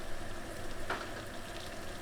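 A small amount of an ingredient sizzles in a pan while spaghetti with sardines marinara is being made: a soft, steady frying hiss, fairly faint and continuous, with no voices.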